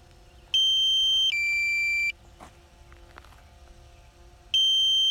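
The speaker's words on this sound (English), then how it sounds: "If I hear that beeping in the background, that's letting me know the battery is going to be going out soon" Loud electronic low battery warning beeps, two back-to-back high tones, then silence before another beep repeats; no talking.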